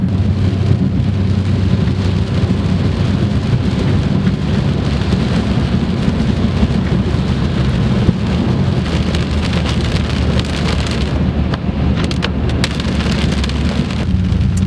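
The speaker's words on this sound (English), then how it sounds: "it's raining pretty hard out right now" Heavy rain pours steadily and loudly throughout, a dense continuous roar with a low rumble underneath and no voices.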